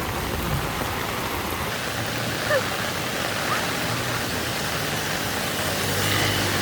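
Heavy rain pours steadily onto a street, a dense continuous wash of noise with no breaks, loud and close throughout.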